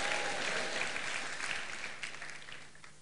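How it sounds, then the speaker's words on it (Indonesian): A church congregation claps and applauds together, loud at first and slowly fading, with a dense patter of many hands and no voices over it. "Tepuk tangan untuk kita unity."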